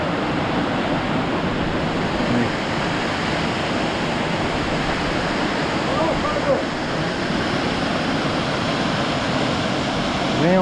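Steady broadband roar of a waterfall on a jungle motorbike trail, loud and continuous, filling the whole stretch with dense rushing water noise that never lets up.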